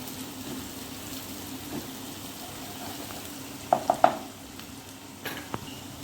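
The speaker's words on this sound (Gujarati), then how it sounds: "થોડીક વાર માટે સાતળી લઈશું, કારણ કે આપણા મસાલા બધા તેલમાં સતળાઈ જાય" Onions and spice paste fry in hot oil in a pan for chole, a steady soft sizzle broken by a few quick clinks of a spoon stirring against the pot.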